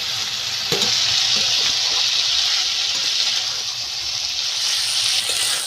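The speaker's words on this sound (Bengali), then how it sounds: "কপি আলু কড়াইশুটি ওটা আমি এই দেখুন ভালো করে ভেজে নিচ্ছি" Loud, constant sizzling of cauliflower, potato and peas frying in a pan, a bright hiss throughout with an occasional scrape of stirring.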